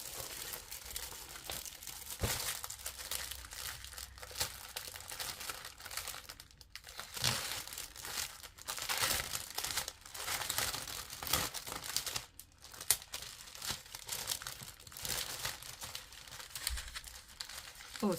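Thin, tissue-like food cushion paper being crumpled and crinkled by hand, a continuous close crackling with sharper crunchy bursts throughout, no speech over it.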